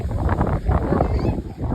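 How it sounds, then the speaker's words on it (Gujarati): Strong, dust-raising wind buffets the microphone in a dense, low roar that rumbles continuously without letup. "જો કેવો લાગે છે પવન ડમરી ઉડાવે એવો પવન"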